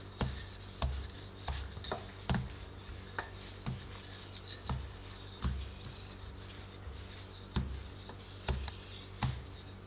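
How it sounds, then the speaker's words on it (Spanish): A wooden rolling pin works sweet bread dough into a rectangle, giving soft, regular thumps and rubbing strokes about once per second, quiet and close with no talk. "vamos a formar un rectángulo con el palo de amasar"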